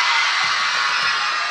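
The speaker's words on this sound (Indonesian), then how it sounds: "sekarang saya mau dengar adik-adik ini teriak sekenceng-kencengnya" Children at an orphanage in Bali shout together as loud as they can, a sustained, bright, loud group yell filling the brief moment.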